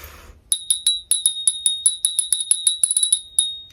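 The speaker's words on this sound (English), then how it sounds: "Oh, let's ring our bell." A small bell is rung close up in a quick, uneven series of about fifteen bright, sharp strikes, each ringing briefly before the next, with nothing else heard around it.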